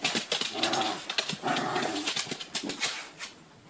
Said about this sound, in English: you see two dogs doing tug-of-war